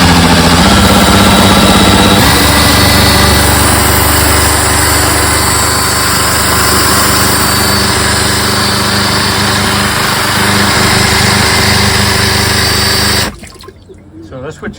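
Drill spinning an outboard gearcase impeller with the lower unit sunk in a water barrel, a loud steady motor whine with churning water, running continuously before stopping abruptly near the end.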